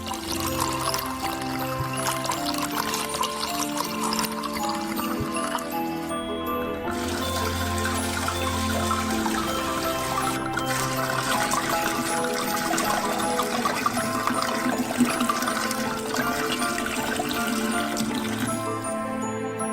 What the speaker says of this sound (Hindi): एक बड़े सॉसपैन की जरूरत है जिसमें सारा शराब डाल सकते हैं।